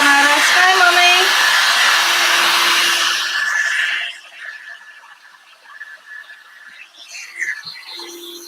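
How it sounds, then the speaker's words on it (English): A heat gun blows hard on a Woodubend piece, a loud steady whooshing roar up close with wavering tones, then drops away to quieter handling and room noise. "put the heat gun on it"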